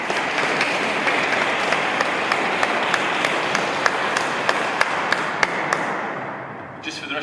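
Audience at an election hustings in Beverley Minster clapping steadily and loudly in a large reverberant space, individual claps standing out, tapering off near the end as a voice begins.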